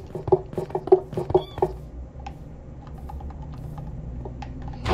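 A cat in the Minecraft video game makes a string of short, clipped sounds over the first two seconds, followed by quiet background game noise.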